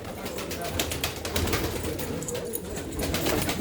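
Pigeons coo softly in a loft behind mesh netting, low murmuring calls repeating steadily amid light rustling and faint background voices.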